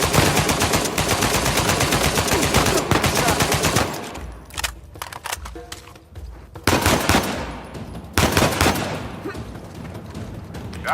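Bursts of rapid automatic gunfire rattle loudly in Uncharted 4, dense at first, then breaking into scattered shots and short volleys after a brief lull.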